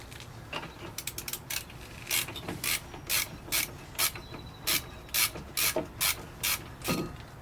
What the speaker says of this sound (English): Tighten up 2 15mm bolts.